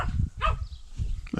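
A herding dog at a training course barks at a herd of livestock in a few short, sharp woofs spaced irregularly over a second and a half, close and fairly loud.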